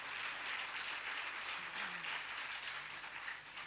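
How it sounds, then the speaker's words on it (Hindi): An audience at a Ram Katha religious discourse gives a steady, even round of applause, heard from a distance as a dense wash of clapping that holds for a few seconds and then eases off slightly. "तालियां कमजोर है।"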